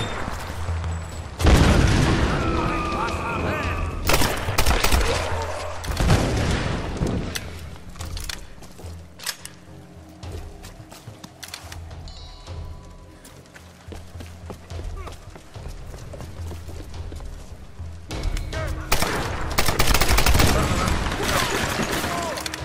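Gunfire in the Tomb Raider PC game: loud bursts of shots and booms in clusters at the start and end, with a quieter stretch in between and voices calling out over the action.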